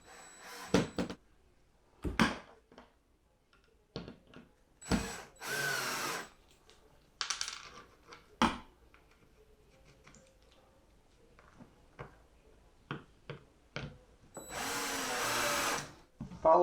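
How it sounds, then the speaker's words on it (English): Short bursts of a power drill driving in bolts while assembling a wooden 8-cube storage bookshelf, whirring on and off, with brief pauses, clicks and handling noises between runs; quiet room, no talk. "I'm going to speed my process up with a drill."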